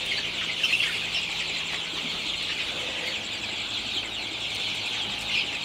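Sonali hybrid chickens in a poultry shed after being given water, a busy flock clucking and chirping in a continuous, moderately faint chorus with no talk.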